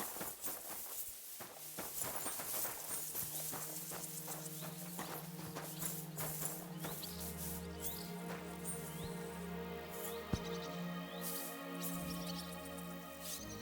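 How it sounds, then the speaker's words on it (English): Horse hooves clip-clop on ground in the video game Kingdom Come: Deliverance 2, a steady walking patter heard alongside game music tones and ambient noise, moderately close. "Your horse nearly trampled me!"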